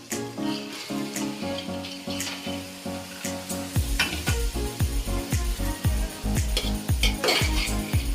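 Soaked mixed sprouts hit a hot pan for sambar, sizzling steadily while a metal spoon scrapes and clanks against the pan in repeated, close stirring strokes.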